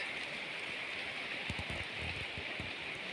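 Steady rain falls over foggy hills, a dense even hiss with scattered drops close by, continuous and alone with no talking.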